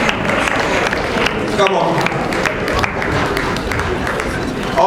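An audience at a theatre festival in Lagos applauds in a dense, continuous wash of clapping and crowd noise that is loud and close, with a voice calling out briefly.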